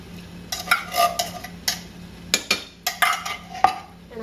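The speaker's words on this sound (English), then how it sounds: "And I'm going to mix it together really good." Chicken spaghetti ingredients with canned Rotel tomatoes and green chilies being stirred in a pot, a series of sharp utensil scrapes and clinks against the metal at an uneven pace, close and clear with no talk.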